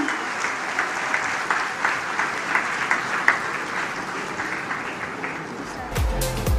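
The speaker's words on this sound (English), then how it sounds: "Please give a round of applause for Salman Khan ji." Audience applause at a charity event, a steady spread of clapping with scattered louder individual claps for about six seconds, then a brief thump and rustle near the end.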